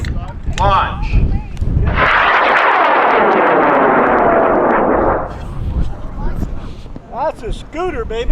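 Loud, close roar of a high power rocket motor launching from the pad, a sustained blast of about three seconds that cuts off and leaves scattered voices and crowd noise.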